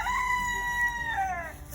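A young rooster gives a single drawn-out crow, fairly close and clear, wavering and trailing off at the end over steady background noise.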